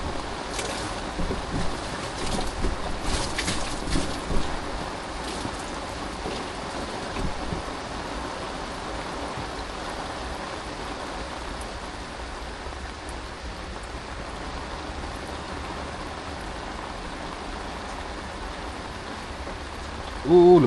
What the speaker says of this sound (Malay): Oh, lebat hujan tu.